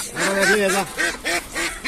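Pekin ducks at a poultry market in Mostofapur bazaar give a run of loud, close, nasal quacks, roughly four or five calls in quick succession with short gaps between them.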